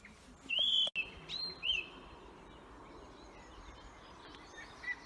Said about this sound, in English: What was it called again, Joe? A Dunnock.